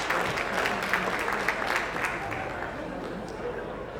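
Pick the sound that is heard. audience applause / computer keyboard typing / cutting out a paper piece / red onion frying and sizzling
audience applause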